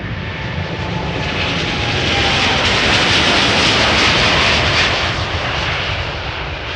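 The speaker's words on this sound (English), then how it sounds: "KLM A321 Neo having taken off from" KLM Airbus A321neo jet taking off from Amsterdam Schiphol, a loud, continuous engine roar with broad whine that swells toward the middle and holds steady, with no talk.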